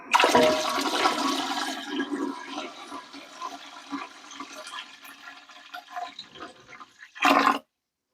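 Water poured into a stackable canner holding jars of green beans, a loud rushing, splashing pour at the start that fades into softer trickling, with a brief burst of splashing near the end.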